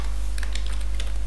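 Rapid clicks of a computer keyboard as code is typed, a short close burst of several keystrokes at an irregular rhythm with no voices.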